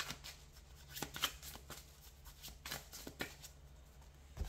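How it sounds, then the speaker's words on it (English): A deck of cards is shuffled in a quiet room, a series of soft riffling bursts and flutters at close range with no talking. "So let me just shuffle this deck right here."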